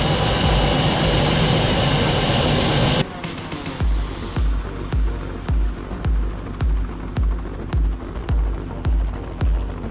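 Loud helicopter rotor roar that steady for a few seconds, then becomes rhythmic whumping blade thuds, close and powerful.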